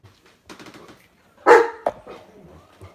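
Big dogs bark indoors in a sharp burst of several loud, close barks, with scattered quieter yaps and household noise around them.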